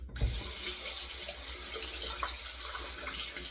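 Hot water runs steadily from a tap to rinse a shaving razor, a constant close splashing hiss that starts after a brief thump and continues evenly, with no talking.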